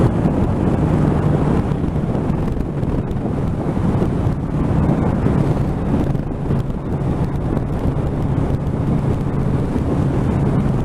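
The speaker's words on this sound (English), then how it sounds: "there's definitely more wind buffeting, but it's not obnoxious." Steady, heavy wind buffeting roars around a rider at speed on a Suzuki GSX1300R Hayabusa fitted with an ABM handlebar conversion, a constant loud rush filling the whole stretch with no voices.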